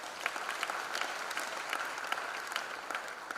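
An audience at a college freshers' induction program applauds steadily, a dense wash of many hands clapping at even loudness throughout, with no speech over it.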